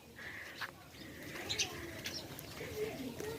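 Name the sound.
birds cooing in a tree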